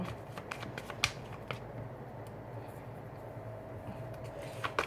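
A 32-card deck of playing cards shuffled by hand, giving a few quick, sharp riffling snaps and soft flicks over a quiet room.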